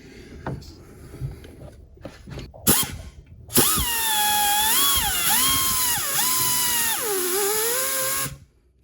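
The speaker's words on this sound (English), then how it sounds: "after a combination of drilling, hitting it with a chisel, and grinding it down with this special bit here" A power drill whines loudly and steadily for several seconds drilling metal on a Subaru STI turbo, its pitch dipping and rising under load, after a few sharp knocks and clanks.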